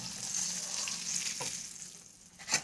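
Surmai fish frying in oil, a soft hissing sizzle with a couple of brief clicks near the end, fairly quiet and without speech.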